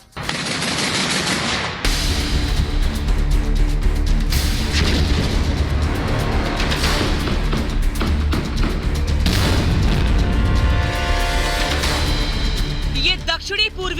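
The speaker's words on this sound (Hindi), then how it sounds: "धमाके किस तरीके से हो रहे हैं, हवा में, आसमान में, जमीन में" Explosions and artillery blasts in the Russia-Ukraine war, heard as a dense, continuous roar of booms and rapid gunfire-like cracks that stays loud throughout.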